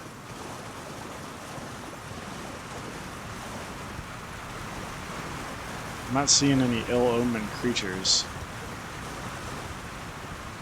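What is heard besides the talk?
waterfalls in Elden Ring Deeproot Depths, video game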